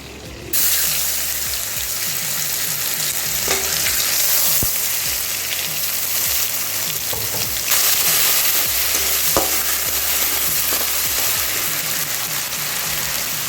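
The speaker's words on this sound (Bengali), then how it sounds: "তেলের মধ্যে আমরা এবার দিয়ে দেবো আদা রসুন বাটা।" Ginger garlic paste frying in hot oil for a fish-head muri ghonto, a loud, dense, continuous sizzle that starts abruptly and stays steady, with a few faint stirring clicks and no talking.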